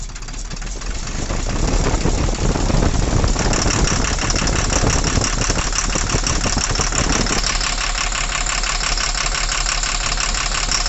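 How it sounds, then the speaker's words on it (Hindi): A car engine runs loudly with a rough, rattling knock and heavy vibration, steady and close, shifting character partway through. "किस तरह से इंजन हमारा साउंड कर रहा है और धड़ धड़ धड़ धड़ इस तरह से साउंड कर रहा है"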